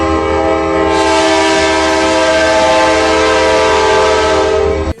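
An RJ Corman EMD SD40T-2 locomotive with a 16-cylinder 645 E3 prime mover sounds a long, loud, sustained horn chord over its engine rumble, ending abruptly.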